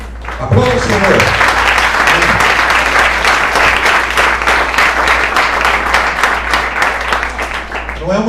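A church congregation bursts into sustained, loud applause during a worship service, dense clapping continuing steadily throughout after a brief spoken cue at the start.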